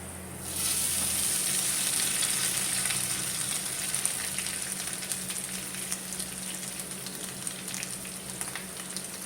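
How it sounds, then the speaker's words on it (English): Grated coconut and curry leaves roast in a hot pan on a medium flame, a steady close sizzle and crackle starting abruptly and continuing without pause, with no talk. "Now add in the coconut and the curry leaves."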